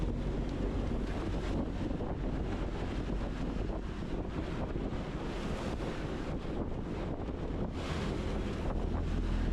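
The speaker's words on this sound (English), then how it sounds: "a terrific wind blew from nowhere" Strong tropical storm wind at sea buffets and roars steadily without a break, mixed with surging water and heavy gusts battering the microphone, and no one speaks.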